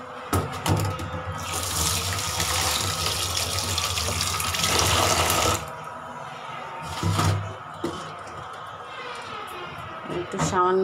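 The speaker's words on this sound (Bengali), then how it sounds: "পানি দিয়ে ধুয়ে নেব।" Tap water gushes into a sink or vessel to wash fried mung dal in a home kitchen. The loud, steady rush stops and restarts, with clattering and voices in the background.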